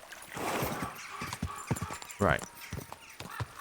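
Horse hooves clip-clop in a rhythmic trot in the video game Kingdom Come: Deliverance II, under a voice, with a brief whinny in the middle.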